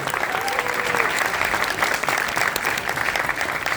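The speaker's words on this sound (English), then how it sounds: "Please give a huge round of applause for Mr. Ajit Balakrishnan." A university audience greets an introduced speaker with loud, sustained applause, a dense unbroken wash of many hands clapping at once, with a brief voice faintly audible underneath.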